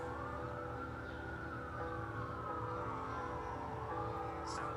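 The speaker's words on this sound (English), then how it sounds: "Sorry if you can hear the sirens." A wailing emergency siren rises and falls steadily in the distance, heard over a constant low background rumble with no talking.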